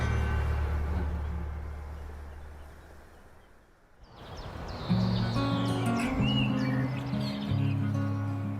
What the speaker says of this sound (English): You were listening before to the bird song?